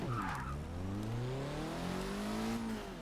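2004 Mitsubishi Lancer Evolution VIII MR driven in a racing game, its engine revving and rising through the gears with tire squeal, loud and continuous with no talk.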